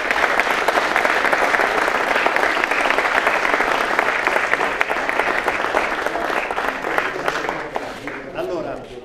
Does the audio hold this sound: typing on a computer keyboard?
no